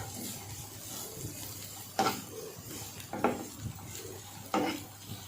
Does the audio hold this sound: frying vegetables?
yes